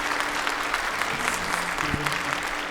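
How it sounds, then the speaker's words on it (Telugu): An indoor audience claps for a pendulum demonstration, steady moderate applause at mid distance, with a brief low tone near the end. "మరి గట్టి క్లాప్స్ కొట్టేయండి"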